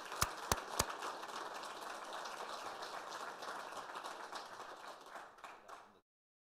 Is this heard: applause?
yes